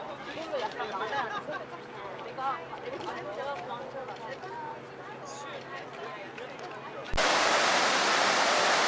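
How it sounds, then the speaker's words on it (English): Bridal Veil Falls in Yosemite roars as a continuous wash of falling water. It sits under a crowd's chatter, then becomes louder and closer for the final seconds. "here we are below the waterfall. You look up through here. The waterfall is called Bridal Veil Falls."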